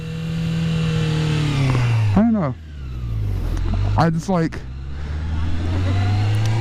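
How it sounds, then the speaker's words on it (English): A motorcycle engine revs loudly nearby, pitch climbing and dropping through several sharp throttle blips while a person talks over it. "I was revving my bike up."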